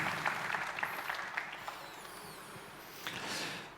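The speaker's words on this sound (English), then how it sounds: "Round of applause for Dan." Applause from an audience at a robotics event, a broad crackling wash of clapping that stays fairly steady for several seconds and then tapers off.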